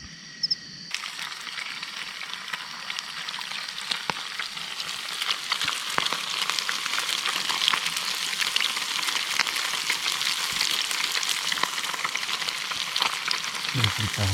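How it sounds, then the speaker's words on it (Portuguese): Fish fries in a pan with a dense, crackling sizzle that starts abruptly and holds steady and close, with a faint bump near the end. "Vou fritar rapidinho."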